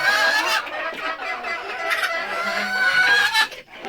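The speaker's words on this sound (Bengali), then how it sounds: "দেখুন আমাদের দুইটা বড় সাইজের মোরগ।" Roosters at a backyard poultry farm crow in drawn-out calls over busy, overlapping clucking from the flock, loud and close for about four seconds with no talk.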